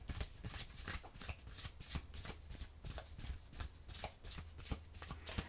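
Oracle cards being shuffled by hand at close range, a quiet, continuous series of soft riffling flicks and papery slaps in an uneven rhythm.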